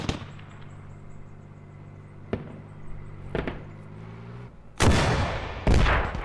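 Gunshots in the video game Squad: a few sharp distant cracks spread through the first seconds, then two louder, heavier booming shots near the end over a low background hum.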